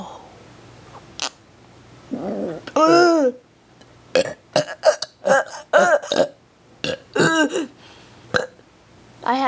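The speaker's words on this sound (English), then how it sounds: "I had ice cream, so I'm sorry if I burped too much." A person burps repeatedly and loudly, a string of short throaty belches in uneven rhythm close to the mic, with sharp clicks between them.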